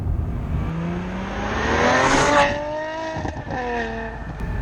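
A Ferrari 575 with its V12 engine revs up, pitch rising in a smooth climb to a loud peak before easing off and picking up again, heard close and alone.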